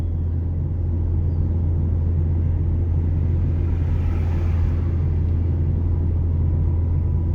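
Ford Focus fitted with two throttle bodies cruising at a steady 60 km/h on cruise control, a continuous low engine drone and road rumble heard from inside the car, even and unchanging, with no voices.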